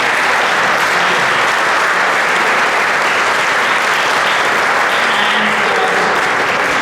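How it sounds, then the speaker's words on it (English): A large audience claps steadily and loudly at a report launch, a dense, even wash of applause lasting throughout without any voices. "giving us all a very big round of applause once again"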